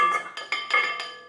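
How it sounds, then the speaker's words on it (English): A spatula works cream out of a mixing bowl, giving a few light ringing clinks and scrapes against the bowl in quick succession, close and fairly quiet with no talking. "And then use the spatula. Just scrape all the cream from the bowl to the"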